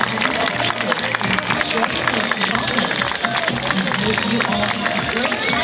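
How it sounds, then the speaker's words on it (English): Audience applause for Thai performers at a Thailand National Day celebration at EXPO 2020, a dense steady wash of many hands clapping with crowd hubbub running throughout at a fairly loud, even level. "please give a big round of applause for our Thai performers"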